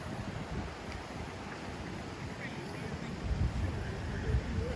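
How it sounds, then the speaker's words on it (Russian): Roaring sea surf breaks just beyond palm trees on the Cuban coast during hurricane-force wind, a dense continuous wash with low rumbling swells that grow heavier toward the end. "Слышите, как шумит море?"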